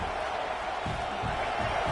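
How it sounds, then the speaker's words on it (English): Football stadium crowd at a Michigan vs Oklahoma game, a dense continuous roar swelling steadily as the home defense holds in the red zone, broad and loud with no single voices standing out. "the crowd coming to life here, trying to help this defense down in the red zone"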